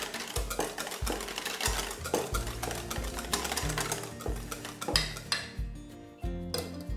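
A utensil clatters rhythmically against a bowl while caster sugar is mixed in for a pandan sponge cake, a quick steady tapping and scraping close by with no talk.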